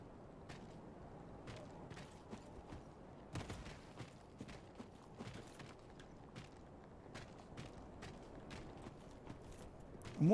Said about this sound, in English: Here's someone's footsteps.